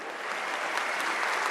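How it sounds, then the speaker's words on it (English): Audience applause at a book event with Bill Clinton and James Patterson for "The President is Missing": a steady, dense roar of many hands clapping at full strength throughout, with no voices over it. "feel free to applaud."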